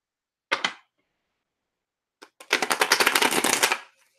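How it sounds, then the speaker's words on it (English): A deck of playing cards shuffled close by: a short riffle, a pause, then a longer rapid ratcheting riffle with a brief flutter at the end, no talking. "I just want to make sure these are good and shuffled."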